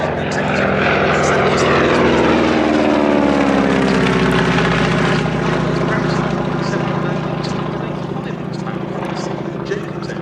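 A Spartan 7W Executive aircraft flies past at a Shuttleworth season premiere air display, its propeller engine droning loudly with a sweeping pitch shift as it passes, then a steady fading hum.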